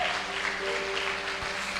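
Brief applause from a church congregation during a sermon, a dense, even patter of many hands at moderate level with a faint sustained tone beneath.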